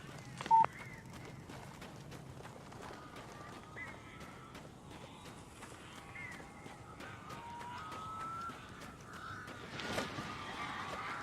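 Crows cawing in the game Alan Wake, several scattered harsh calls over a quiet ambient background, with some faint indistinct voice or noise under them.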